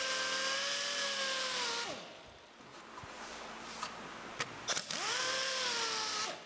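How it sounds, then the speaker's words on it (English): An angle grinder whines loudly while cutting a rabbet into a wooden boat hull for bottom planking, running steady, easing off mid-way with a few sharp scrapes against the wood, then spinning back up. "we found that the grinder is probably a much faster way to do it"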